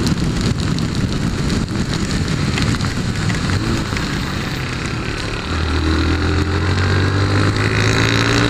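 Steady heavy rain with a constant broadband hiss, joined midway by the low hum of a passing vehicle.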